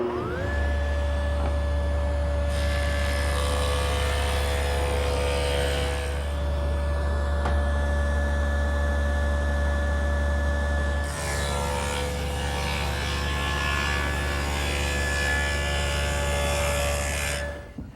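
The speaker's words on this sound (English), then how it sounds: "So I've set the dado head cutter to 1/4 inch. I'll make the first pass, move the fence slightly, then make the second pass." A table saw fitted with a dado head cutter set to a quarter inch whines at a steady pitch and roars as it cuts an oak tongue, running through two long passes with the motor's hum carrying under the cutting.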